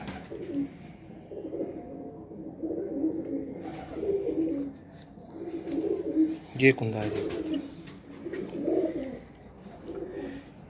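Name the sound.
pigeons cooing on a rooftop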